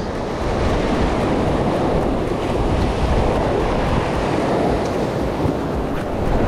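Atlantic ocean waves and swell break along a rocky fishing shore on Lanzarote, a loud, continuous wash of surf with some wind buffeting the microphone, no voices.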